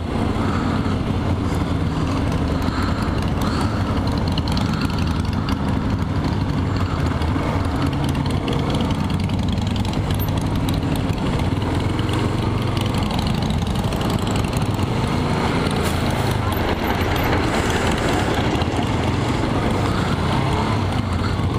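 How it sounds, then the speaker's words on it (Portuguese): A Harley-Davidson motorcycle engine idles on a street, its steady, loud low rumble running continuously without pause. "É uma Harley, não é? Harley Davidson."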